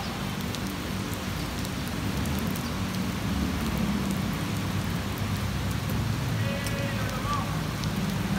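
Sudden rain on a street during a walking tour, a steady broadband hiss of downpour filling the scene at constant loudness, with faint passing voices and distant background activity.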